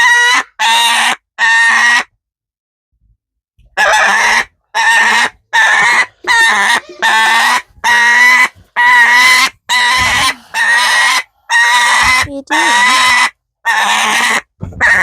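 A pet bird named Perry gives loud, close, repeated squawking calls in short bursts with brief pauses between them, and a person briefly speaks amid the calls.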